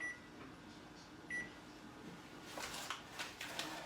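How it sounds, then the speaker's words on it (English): A kitchen timer is set while biscuits bake in a 450-degree oven, giving two short faint beeps followed by soft handling and rustling noises. "And set that timer."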